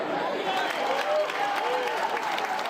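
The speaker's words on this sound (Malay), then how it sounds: "suasana di kawasan penyokong meriah dengan sorakan dan tepukan." Supporters gather in a crowded area, cheering and clapping in a lively continuous wash of applause and voices, with people talking over the noise.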